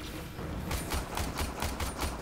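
Turrets fire in Warframe: a rapid, even burst of about a dozen sharp shots in steady rhythm, fairly close and moderately loud, with no talk.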